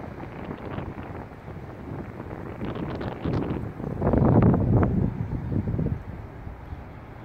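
Gusty wind buffeting the microphone outdoors under shifting clouds, a steady rushing roar that swells louder in the middle and eases off, with no talking.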